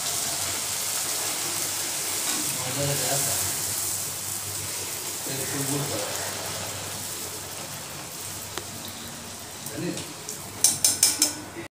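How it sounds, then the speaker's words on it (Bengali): Luchi deep frying in a pan of oil: a steady broad bubbling hiss throughout, with a few quick metallic clinks near the end. "এই যে এখন লুচি ভেজে নিচ্ছি"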